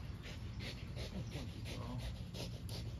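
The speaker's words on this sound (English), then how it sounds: "Hey, that's my dog." A dog pants and snorts close by in quick, rhythmic breaths, quiet and huffing, with faint background murmur.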